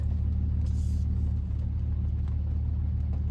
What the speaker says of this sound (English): the truck beside me is very loud